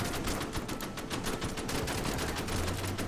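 Rapid gunfire from the video game Order of Battle as units fire on an enemy bunker, a dense, continuous crackle of bursts filling the whole stretch with no talk over it.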